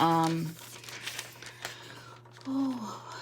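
A used sheet of deco foil is crumpled and crinkled close by, its crackling scrunches running under a voice, with a brief tonal tone at the start and another near the end.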